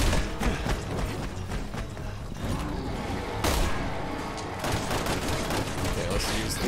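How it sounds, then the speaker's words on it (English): Gunfire and metallic pings from bullets striking an armored enemy in Resident Evil 6, rapid clattering shots and mechanical clicks continuing steadily with a talking voice over the top. "I think I'm hearing like a little metal ping."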